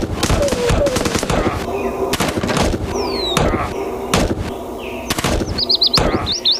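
Rapid bursts of gunfire ring out in the Nintendo 3DS on-rails light-gun shooter Heavy Fire: The Chosen Few, sharp repeated shots and thuds over game effects and whistling sounds.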